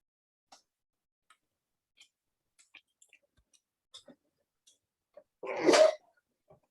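A single loud, close sneeze bursts out near the end of an otherwise quiet room, preceded by a few faint scattered ticks and small sounds.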